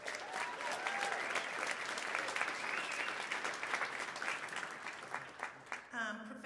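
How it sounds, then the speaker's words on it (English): A debate audience claps in sustained, dense applause that fills the room, loud and continuous before tapering off, while a voice speaks over the end. "we have to applaud that in these dark times"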